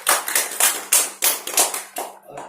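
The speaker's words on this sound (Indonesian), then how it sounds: "Bisa tepuk tangan?" A small group of hands clapping in a classroom lesson, about eight quick, close, bright claps in an uneven rhythm, alone and fairly loud, ending abruptly.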